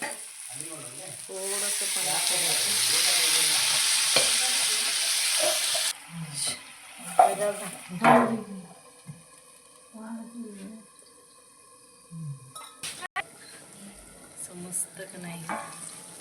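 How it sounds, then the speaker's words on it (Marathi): Brinjal sizzles and fries in hot oil in a pan while being stirred, a loud continuous hiss for several seconds followed by scraping stirs, clanks and quieter frying, with someone talking over it. "मस्त हलवून घ्यायचं वांग असं मस्त हलवून घ्यायचं. नुसतं तेलात असं छान"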